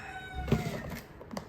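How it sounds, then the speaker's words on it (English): A rooster crows once in a short burst indoors, fairly faint and in the background, with no talk over it. "I'm gonna kill that rooster, I swear to God."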